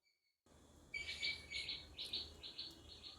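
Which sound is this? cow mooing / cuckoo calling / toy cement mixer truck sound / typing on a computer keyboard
cuckoo calling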